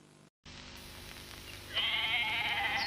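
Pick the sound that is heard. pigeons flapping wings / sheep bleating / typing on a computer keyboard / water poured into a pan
sheep bleating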